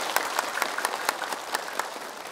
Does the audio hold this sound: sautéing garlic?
no